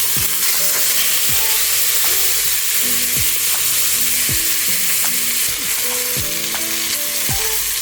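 A lamb shank sears in hot oil with a loud, steady, dense sizzle throughout, and occasional scrapes or shifts of the meat in the pan.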